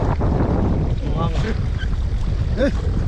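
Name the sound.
big sea waves heard from a small boat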